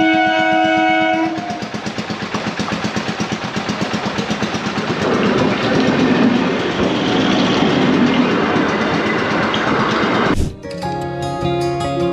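A train passes close by a level crossing on the road from Kolkata toward Siliguri, with a loud rumbling roar and rhythmic wheel clatter that lasts about ten seconds before cutting off sharply, followed by quieter background.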